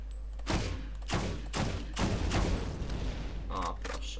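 Ammunition crates exploding in the video game Borderlands, a rapid series of four or five loud booming blasts about half a second apart, each with a crackling tail, followed by a couple of fainter pops.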